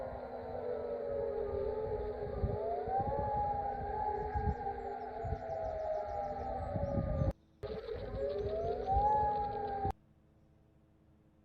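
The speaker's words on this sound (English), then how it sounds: "You do hear sirens sounding." Sirens wail with slowly rising and falling tones, steady and fairly loud, over rumbling background noise in Iraq after a US aircraft crash. The sound cuts out briefly, returns, then stops abruptly.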